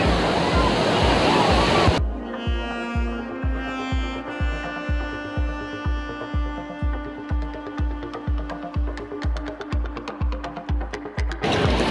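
Sea waves roll onto the shore at crowded Digha beach, a loud, broad wash of surf for the first couple of seconds before rhythmic music takes over and buries it.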